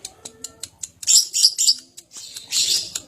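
A lovebird chirps in a rapid series of sharp, high tweets, then breaks into loud, close bursts of shrill chattering.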